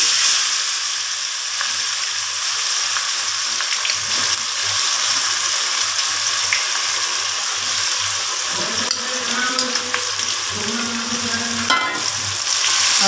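Meat fries with spices in a wok, giving a steady, close sizzle throughout with a few clinks and stirring sounds near the end and no talk.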